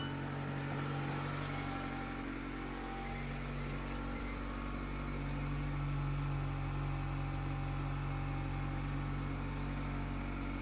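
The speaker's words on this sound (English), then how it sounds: "And listening to the idle outside the car." A 2024 Mazda MX-5 Miata's 2-liter 4-cylinder engine idles outdoors with a steady, even, moderately loud hum and a low throb that holds unchanged throughout, no voices.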